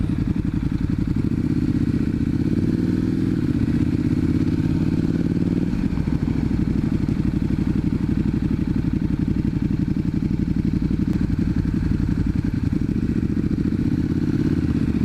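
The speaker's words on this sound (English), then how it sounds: "Lovely tick over on these things. You can just hear that burble of that V-twin engine." A KTM 1290 or Indian FTR 1200 V-twin motorcycle engine idles steadily nearby, a low uneven burble with a brief shift in tone partway through, no talking.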